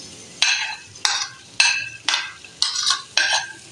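Onions frying in oil with cumin and fenugreek seeds for a fish curry, heard as a series of sharp, regular stirring scrapes and sizzling bursts, about five or six in quick rhythm, close and loud.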